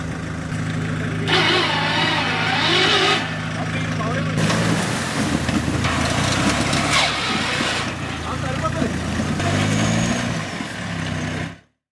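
A Polaris off-road vehicle labours up a steep climb on an off-road trail in Vikarabad, its mid-pitched engine droning and straining steadily close by, with people talking over it throughout.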